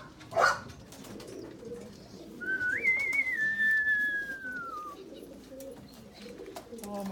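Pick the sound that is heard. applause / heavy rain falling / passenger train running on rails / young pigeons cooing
young pigeons cooing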